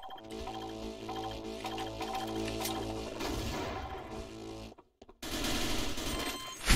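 Rapid automatic gunfire in a Modern Warfare-style first-person shooter rattles loud and continuous, with crashing impacts, then stops abruptly for a brief silence before another dense burst of fire resumes.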